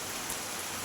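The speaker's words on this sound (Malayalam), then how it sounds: "ഈ മഴ നല്ലപോലെ പെയ്യുന്നുണ്ട്" Heavy rain falling while the sun shines, a dense, even hiss of drops, steady and close throughout a brief moment.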